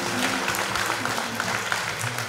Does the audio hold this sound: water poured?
no